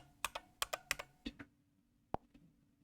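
A password being typed on a computer keyboard: a quick burst of close, crisp key clicks, a brief pause, then a single sharper keystroke, like Enter, in a quiet room.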